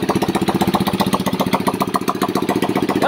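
A motorcycle engine with a newly replaced throttle pipe runs steadily up close, giving a loud, fast, even chugging pulse with no voices.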